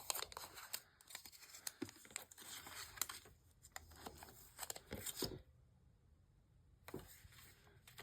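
Tape peeled off a craft background, a run of tearing and crinkling rips in quick bursts, close and fairly quiet, then a short pause and one last rip.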